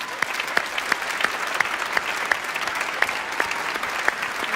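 An audience claps together in a steady, rhythmic wave of applause for the parents of young Quran memorizers, with individual hand claps standing out over the continuous clatter.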